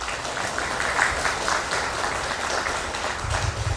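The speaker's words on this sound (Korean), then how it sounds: "구로구 복지 발전에 앞장서 주시는 문헌일 구청장님께 다시 한번 큰 박수 부탁드리겠습니다" Steady applause from a seated audience at a Guro district welfare forum, many hands clapping continuously at moderate loudness with no voices over it.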